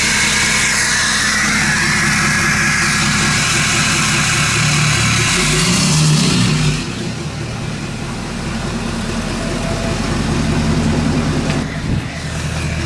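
A 2011 Ford F350 with a 6.7 Powerstroke diesel runs with a loud, deep exhaust drone and engine rumble, swelling as revs build, then easing to a steadier, lower run.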